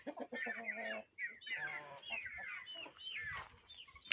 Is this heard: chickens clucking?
yes